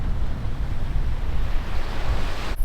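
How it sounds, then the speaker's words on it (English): Strong wind buffets across a hilltop above the sea in Tasmania, a loud, rumbling low roar that gusts and surges unevenly throughout, with a brief sharp burst at the very end. "And it is windy"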